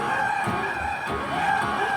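A 2005 New Bright 1/6-scale 12-volt Cadillac Escalade RC car runs at full power, a steady whining electric motor hum with tyre scrub, continuous and close.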